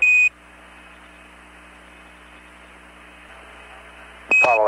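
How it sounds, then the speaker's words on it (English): Apollo 8 spacecraft computer program alarm, a steady electronic tone that cuts off abruptly, leaving a hissing radio channel, then sounds again near the end over a burst of static. "We keep getting a 401 alarm, which says desired RCU yield gimbal lock."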